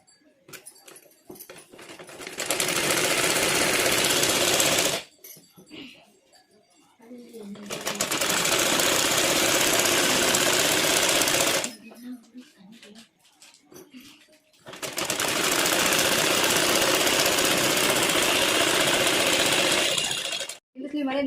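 A sewing machine stitches the sleeves of a chudidar top in three long continuous runs separated by pauses, loud and close, with someone talking in between runs.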